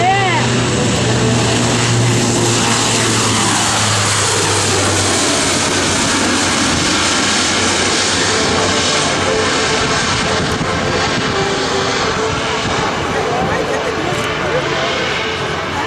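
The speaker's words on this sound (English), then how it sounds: "On the roll right now is the C-130J Hercules from the Rhode Island Air National Guard." A Lockheed C-130J Hercules turboprop transport of an Air National Guard unit rolls for takeoff at an airshow, its four propeller engines roaring loud and steady throughout, with a faint announcer's voice in the background.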